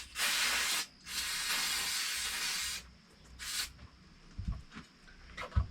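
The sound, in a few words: spraying liquid over a bucket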